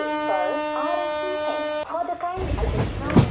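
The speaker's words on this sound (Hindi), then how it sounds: "डिपार्चर करा हॉर्न बजा दिया हूँ मैं।" A train horn in an Indian train driving video game blares as a sustained, loud, steady tone, broken briefly by a shift in pitch before rumbling engine and track noise take over.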